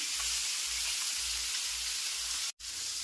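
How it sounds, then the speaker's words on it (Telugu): Pieces of fish fry in a pan for a spicy curry, making a steady bright sizzle throughout with a faint low bubbling underneath and a brief cut-out near the end. "ఇలా కలుపుతూ ఫ్రై చేసుకోవాలండి"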